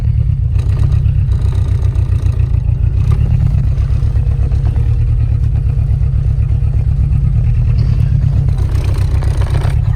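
An old Yugo car's engine drones steadily with constant low rumble and rattling clatter throughout, everything in the car rattling as it drives.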